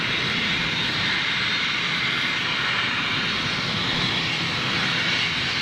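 A big airliner with Rolls-Royce engines and tall landing gear passes nearby, its jet engines making a steady, loud roar with no break for the whole stretch.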